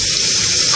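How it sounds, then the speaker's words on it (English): Cold tap water runs steadily from a faucet over a plush Beanie Boo toy being rinsed in a sink, a continuous close splashing gush with no voices. "rinse it off over the faucet with cold water"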